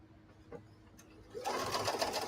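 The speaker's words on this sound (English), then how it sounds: "Now, I'm going to sew right on this line." A sewing machine starts stitching a quilt, beginning with a few faint clicks and then running in a steady, close whir that continues to the end.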